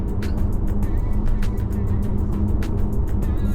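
Steady engine and road drone inside an Audi Q5 Sportback cruising at 85 km/h in top gear, with regular light thumps over the road surface throughout.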